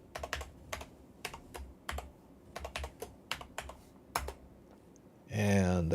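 Password being typed on a computer keyboard during a hardware crypto wallet transaction: a close series of crisp, irregular key clicks for about five seconds, then a sudden louder burst of broadband noise at the end.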